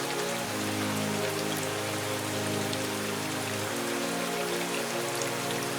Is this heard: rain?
yes